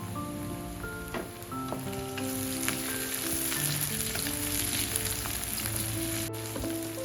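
Ginger with three dried red chillies and one green chilli sizzles steadily in hot oil in a pan for South Indian tomato chutney, a dense, continuous crackle heard up close with no voices.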